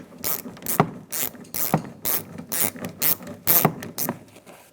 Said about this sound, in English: I'm going to take the internal door handle off, 8mm socket or 5/16.